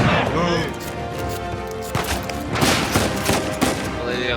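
Gunfire and a shotgun blast from combat in the video game Uncharted 4, a dense loud barrage of shots and impacts with crashing bursts over a steady game soundtrack.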